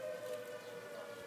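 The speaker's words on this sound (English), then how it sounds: "There's tornado sirens to the north of us." Tornado sirens wailing steadily during a rainstorm, a sustained, droning tone held at an even level over a soft background wash, sounding from some distance to the north.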